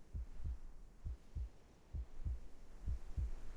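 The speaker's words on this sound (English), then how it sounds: "A heartbeat. Right outside the door." Dull, low heartbeat thumps in the video game Reverse 1999, a steady lub-dub pattern repeating roughly three times a second over a soft background hum, with no talking.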